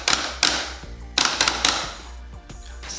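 Hayabusa buttons on a Hori Real Arcade Pro N arcade stick, pressed in a handful of quick, close, light plastic clicks and taps with short pauses between bursts.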